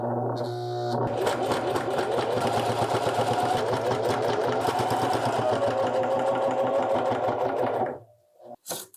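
A sewing machine fitted with a new, bigger needle stitches through coat fabric in a steady, loud, continuous mechanical run, starting after a brief lead-in and stopping abruptly near the end.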